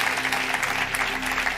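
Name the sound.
church congregation clapping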